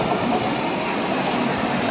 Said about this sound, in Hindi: आ गई है गोमती एक्सप्रेस इटावा के 2 नंबर प्लेटफॉर्म पे।